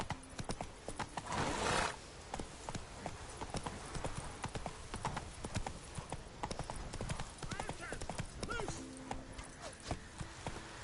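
The horse Roach gallops in The Witcher game, quick rhythmic hoofbeats pounding throughout with a whinny and a burst of noise near the start, while someone speaks now and then over the hooves.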